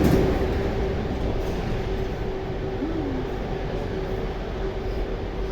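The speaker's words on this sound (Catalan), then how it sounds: "Has vist mai un metro sense conductor?" Driverless metro train on Barcelona's L9/L10 line, a steady loud rumble of the train running through the tunnel with a faint whine, continuous throughout and without voices.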